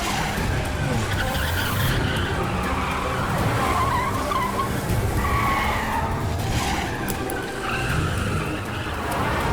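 Car engine roars at speed with tires skidding and squealing in a Hindi movie police chase, dense and loud throughout the whole stretch, with faint voices mixed in.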